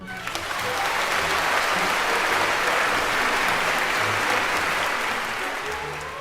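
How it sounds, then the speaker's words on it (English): Audience applause after a ballet performance on stage, swelling quickly into a broad, sustained wash of many hands clapping that holds steady and eases slightly at the end, with faint low voices underneath. "the audience burst into applause"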